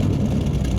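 A steady, close engine hum and whir from a Lexus LS400, a brief continuous stretch with no talk.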